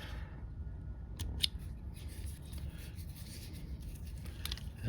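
Scissors snip thread while a fishing fly is being tied, with a couple of quick, crisp clicks early and another faint snip later over a quiet room background.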